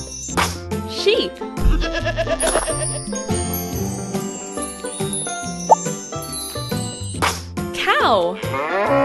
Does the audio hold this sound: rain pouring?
no